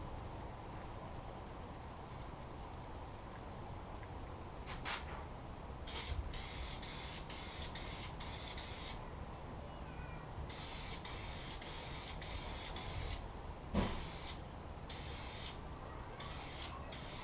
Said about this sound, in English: I'm going to spray this and put some protective coating on it